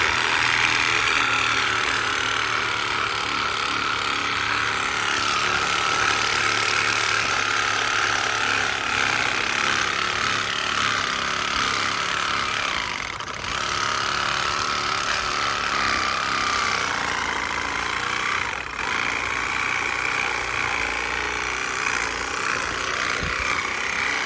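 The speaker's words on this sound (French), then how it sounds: "je vais continuer à couper ici avec le ciseau pour faire tomber l'arbre" A chisel bites into a standing tree trunk being felled, a dense, continuous scraping and rasping of steel on wood that runs steadily with a few brief pauses, close and without speech.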